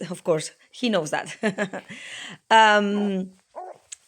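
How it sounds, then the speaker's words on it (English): A tracking dog on a mantrailing trail, barking and yipping in short bursts with a whimpering tone, close by and mixed with a person talking. "here he changes the barking and thus tells me that he has found the freshest trail"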